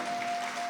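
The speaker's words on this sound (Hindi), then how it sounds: "बजाए जोरदार उनके लिए तालियां।" Brief burst of clapping from a gathering at a devotional healing camp, a dense, even patter lasting under a second at moderate level.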